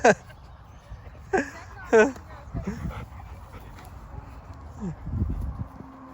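A dog pants and lets out a few whimpering yelps, while voices murmur nearby.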